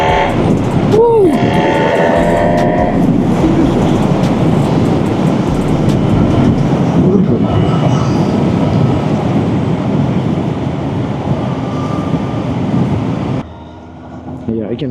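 A Honda CB1000 Hornet motorcycle on a test ride, its engine and the rush of wind making a loud, continuous roar that only briefly dips near the end.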